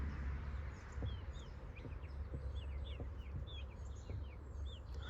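A small rooster on a poultry farm gives low clucks among many high chirping calls of small fowl, all set against a steady low rumble of background noise, with no voices.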